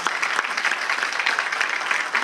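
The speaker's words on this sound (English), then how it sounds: "Big round of applause." Loud, dense applause from an audience honoring veterans in attendance, a brief burst of many hands clapping at once, close and continuous.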